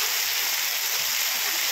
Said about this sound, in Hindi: बहुत तकड़ा मीह है ज्यादा नजायज ही तकड़ा मीह है भाई।